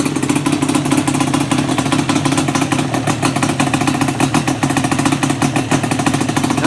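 A Yamaha Banshee's two-stroke engine idles steadily and loudly up close, with a busy, rattly mid-range drone and small fluctuations in pitch, running alone without speech.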